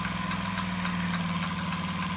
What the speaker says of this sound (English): Okay, so the engine's going. And it's running the pump.